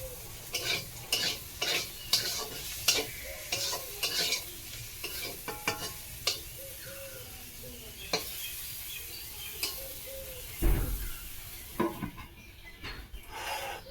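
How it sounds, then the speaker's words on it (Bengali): Potatoes fry in a wok while a spatula stirs them, giving repeated scraping, rasping strokes in an uneven rhythm over a low continuous sizzle. The sound is close and moderately loud, and nobody speaks. "এখানে দেখো এই যে আলু কিন্তু আমার ভাজা হয়ে গেছে খুব সুন্দর লাল লাল করে ভাজা করে নিয়েছি"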